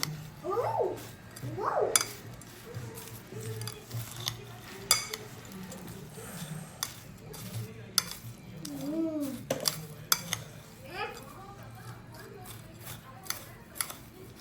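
A spoon stirs cheese bhel chaat in a bowl, giving soft scraping and intermittent metallic clinks, close and fairly quiet, with brief vocal sounds early on.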